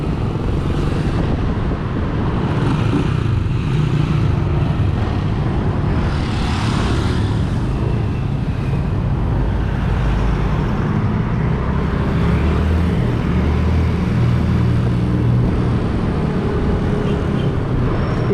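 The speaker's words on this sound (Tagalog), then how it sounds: "So napakarami na rin mga sasakyan dito." Heavy vehicle traffic at Dau Public Market in Mabalacat, Pampanga, rumbles as a dense, continuous engine drone with passing swells, close and loud throughout.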